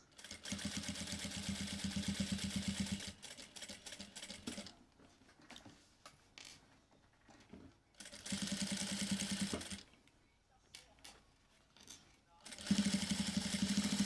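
A sewing machine stitches fabric for an eyeglass case in three bursts of fast, even mechanical chatter, each a second or more long. Someone talks quietly in the pauses between the runs.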